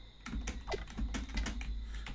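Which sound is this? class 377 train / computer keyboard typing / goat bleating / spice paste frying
computer keyboard typing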